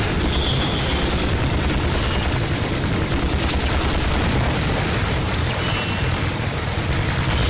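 Turret gunfire and explosive booms in the Ratchet and Clank video game form a dense, continuous barrage, loud and unrelenting, with occasional brighter metallic zaps standing out.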